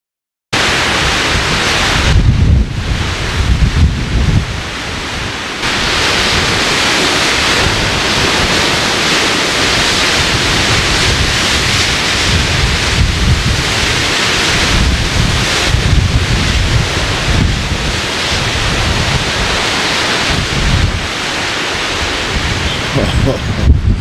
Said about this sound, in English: Some wind, holy.